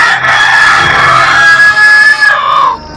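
A rooster crows once in a long, strained cock-a-doodle-doo that carries loud and close for nearly three seconds, then breaks off, during an Easter church performance.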